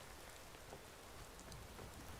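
Steady rain in Skyrim, a dense, even hiss of falling drops with no pauses, moderately quiet throughout.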